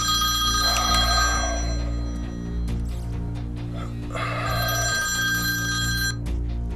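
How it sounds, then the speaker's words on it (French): A telephone rings at night with a repeating electronic bell, two loud ringing bursts separated by a short gap, set over a steady low hum. "un coup de fil les tire de leur sommeil"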